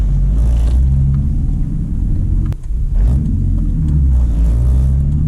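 A Megasquirt-tuned BMW E46 engine idles while warming up from cold, a loud, close, steady low rumble with slight uneven swells and one brief dip midway, no one speaking.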